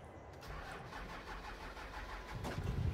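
A ute's engine cranks and catches on a cold day, with a low steady mechanical churn building into a louder, rougher burst of firing near the end as the motor comes to life.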